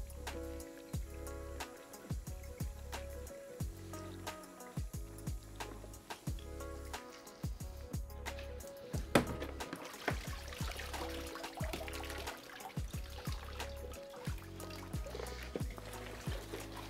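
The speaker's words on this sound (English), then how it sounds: "start running some water down into your BCD." Water from a hose runs into the bladder of a scuba BCD, a soft trickling and gurgling with uneven splashes and a low rhythmic rumble beneath, fairly faint and close.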